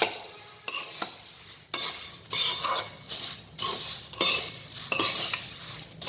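Spoon strokes mix a pan of papad poha with powdered sugar, a steady run of close, rhythmic scraping and gritty rustling sweeps that repeat every second or so.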